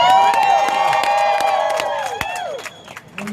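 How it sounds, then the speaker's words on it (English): Audience at a company gathering cheering and clapping with whoops and shouts, loud and close at first, then thinning out toward the end. "Give yourself an applause."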